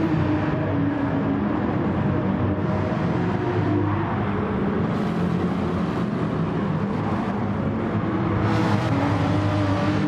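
A pack of race cars, including a Lexus, runs down the straight at Autopolis in a sim racing endurance replay, a steady blended engine drone lasting throughout with rising whines as cars pass.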